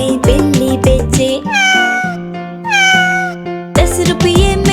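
Cartoonish meows ring out in a Hindi children's rhyme about a toy seller selling a cat, two drawn-out, gliding meow calls set against a bright, busy musical backing with singing.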